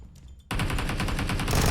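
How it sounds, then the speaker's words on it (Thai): Rapid bursts of gunfire erupt suddenly after a quiet moment, continuing in a steady, loud automatic rhythm, in the video game PUBG Mobile. "เสียงปืนอยู่ด้านหน้าเรานะครับ แล้วก็ทางขวา"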